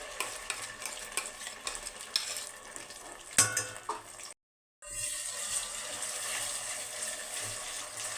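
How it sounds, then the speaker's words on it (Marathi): Whole spices fry in hot oil as ground masala paste goes in for a cashew paneer curry, giving a steady close sizzle with scraping stirs, a sharp burst as the paste hits, then a brief dead-silent gap before the frying resumes. "खडे मसाले छान असे तेलामध्ये तळल्या गेलेले आहेत याच्यामध्ये तयार केलेलं वाटण टाकून घेऊयात आता"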